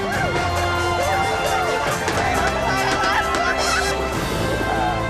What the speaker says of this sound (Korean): 첫 번째 로켓 발사가 성공하면서 사람들이 환호합니다